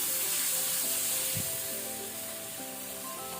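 Onions frying in a pan over a medium flame for a paneer capsicum gravy, a soft continuous sizzle with faint crackle and one brief stir near the middle, fading slightly toward the end.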